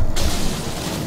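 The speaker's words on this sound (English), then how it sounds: "Oh, I hate explosions." An explosion in the video game Resident Evil 4 gives a loud, broad burst that fades into a noisy roar over about a second.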